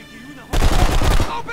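Sudden loud burst of rapid automatic gunfire in the shooter video game Blacksite: Area 51, sustained and dense for about a second after a quiet start, with no talk.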